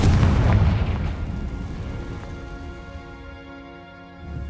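A Confringo fire spell blast in Hogwarts Legacy: one loud booming burst that quickly decays into a crackling, sizzling fiery tail, with a faint tonal hum lingering underneath.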